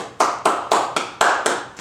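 A barbershop comedy audience claps in a steady run of about seven sharp, evenly spaced hand claps, close and loud, with no talk over them.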